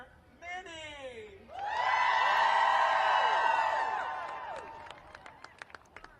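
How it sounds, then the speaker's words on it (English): A large crowd at an outdoor socialist protest march in Washington, DC, breaks into loud cheering and whooping that swells, holds steady, then fades into scattered claps and shouts. "can we please give a big, loud round of applause to our next speaker, Minnie"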